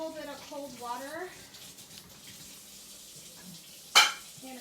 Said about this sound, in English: Did you hear the sizzle? That is sizzling.